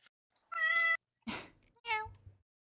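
A pet cat meows twice, close and clear, with a harmonic, drawn-out first call and a shorter second one, separated by a brief rustling noise and no talk.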